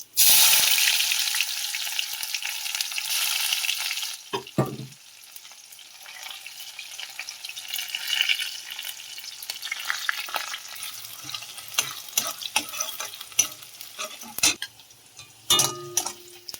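Onions dropped into hot oil with panch phoron for a fish curry, starting as a loud burst of frying that settles into a softer crackle, with scattered spatula clinks and stirring scrapes.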